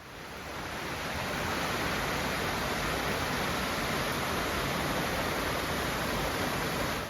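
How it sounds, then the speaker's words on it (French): Small Ras El Maha waterfall at the Chefchaouen medina, where water springs from the mountainside; a steady, dense, broadband rush of falling water fills the whole clip, close and constant with no voices. "juste après la porte nord-est de la Médina se trouve une petite cascade nommée Ras El Maha"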